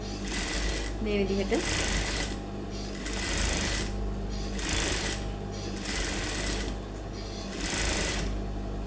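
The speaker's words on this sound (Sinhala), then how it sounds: "දිගටම මහගෙන යනවා" A sewing machine runs in steady bursts, stitching a smock crop top, its motor whirring loud and close while someone talks over it.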